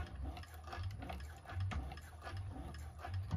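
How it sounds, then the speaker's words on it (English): A 1341 cylinder arm sewing machine stitches around the edge of a bag, a quiet steady mechanical whir with a rapid ticking rhythm of the needle and no talk. "And just sew right around the edge."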